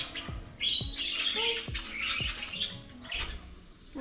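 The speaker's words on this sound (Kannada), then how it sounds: "ವೆರೈಟೀಸ್ ಬರ್ಡ್ಸ್ ಉಂಟು, ಇದನ್ನು ನೋಡ್ಬೋದು." Several kinds of caged pet birds squawk and chirp close by, with sharp repeated calls and brighter twittering overlapping in quick succession.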